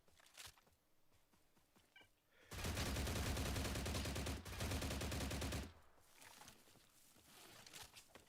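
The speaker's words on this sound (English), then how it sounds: "Which one of y'all is fucking shooting me?" Loud, dense burst of rapid automatic gunfire from a video game, sustained for about three seconds, preceded and followed by quieter game ambience and scattered sounds.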